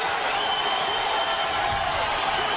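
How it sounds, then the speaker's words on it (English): Dense roar of a Nebraska crowd cheering and rising to its feet at a college wrestling dual meet against Wisconsin, loud and sustained throughout with speech mixed in. "This Nebraska crowd coming to their feet."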